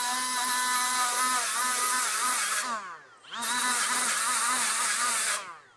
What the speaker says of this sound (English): I put on my green bristle disc, which this is the coarsest.